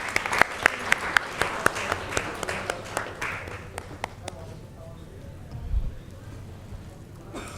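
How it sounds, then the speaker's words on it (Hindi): Scattered hands clap for a guest at an Indian awards and open-mic poetry event, the claps sparse and distinct, then thinning after a few seconds into a quiet room with faint background murmur. "जोरदार तालियां सर के लिए."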